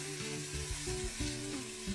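Frozen corn sizzles and crackles in hot oil in a pressure cooker, a steady frying hiss with low bubbling pops throughout.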